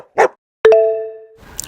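A single short dog bark, then a clear chime rings and decays.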